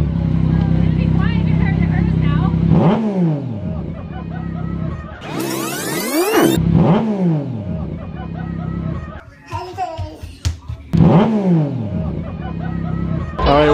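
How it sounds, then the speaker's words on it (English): A Kawasaki Ninja 300 motorcycle with a stock exhaust pipe revs several times, sweeping rises and falls in engine pitch close by, with people chattering and reacting around it. "We are revving our bikes."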